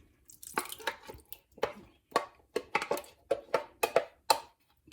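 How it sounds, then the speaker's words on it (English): Sauce for a vegan high-protein pasta pours from a spouted container into the pan with a quick series of wet plops and glugs. The sounds are close and fairly faint, each separated by short pauses. "now I'm gonna go in with the sauce"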